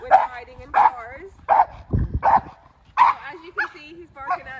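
A 4-year-old Chow and Golden Retriever mix barks at a car while pulling on the leash: a run of loud, close, rough barks with a brief low rumble partway through.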